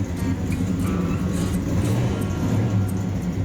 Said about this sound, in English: the cars, built for speed, like this black '66 Dodge Coronet